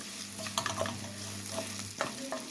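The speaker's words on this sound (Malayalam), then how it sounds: "അരപ്പിൻ്റെ സ്മെല്ലൊക്കെ ഒന്ന് പോണ വരെ ഒന്ന് വഴറ്റി കൊടുക്കുക" Ground masala paste for strawberry pickle sautéing in a pan, a soft constant sizzle broken by light scraping strokes of a spoon stirring it, with a low hum underneath and no voices.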